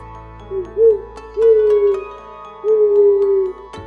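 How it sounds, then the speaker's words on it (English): Owl hooting, three clear, smooth hoots in an uneven rhythm, the last two long and drawn out, close and prominent over a quiet steady musical backing with soft ticks. "O for Owl."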